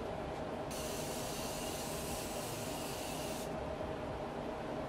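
A continuous hiss of spray, steady and close, lasting several seconds without pause.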